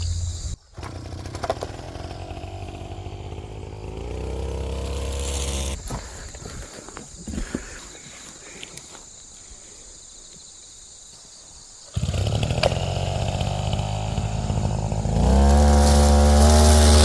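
A string trimmer fitted with two trimmer lines runs at a high-pitched buzzing whine, drops to a quieter idle for several seconds, then surges back to full cutting speed close by.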